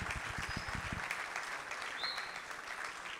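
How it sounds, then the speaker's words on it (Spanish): Audience applause for a school group at a student event, clapping loud at first with a few sharp claps, then thinning into a softer, steady patter. "un fuerte aplauso nuevamente para el grupo de la Escuela 14 de San Miguel"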